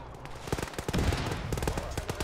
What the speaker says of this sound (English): Hey, suppressing fire west now.